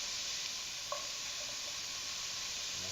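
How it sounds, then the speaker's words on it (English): Onions cook in oil in a pan, giving a steady, even sizzle throughout with a faint clink partway through. "I'm going to cook the onions down until they're nice and soft"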